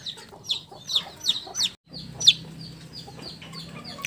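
Repeated high-pitched peeps of free-range village chicks come in quick bursts, with a few soft low clucks from the hen underneath, fairly close, with a brief pause midway.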